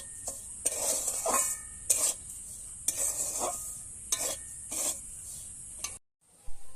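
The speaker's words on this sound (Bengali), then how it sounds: "আমি সব মিশ্রণটাকে একসঙ্গে মিশিয়ে নেব।" A spoon scrapes and stirs through a dry mixture of semolina, sugar and powdered milk in a pan, with repeated rasping strokes at a steady, quiet rhythm, close up and without talk.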